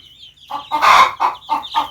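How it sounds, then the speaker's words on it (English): Broody Black Oyster Lark hen clucking close by in a dim coop, a short run of several soft, rhythmic clucks rising and falling in loudness, with no talking. "One of my hens over here, she's either already laid an egg"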